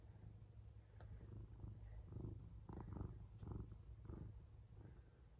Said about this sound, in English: I hope the camera's picking up how much you're purring.